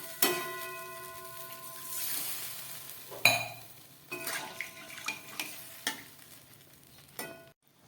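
Masala spice paste with cashews frying in oil in a pan, soft sizzling broken by a sharp clank and several scraping stirs, close and fairly quiet.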